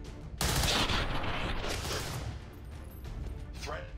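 A burst of XCOM 2 gunfire erupts after a short quiet, a dense rattling volley that fades into lingering rumble, with voices speaking around it.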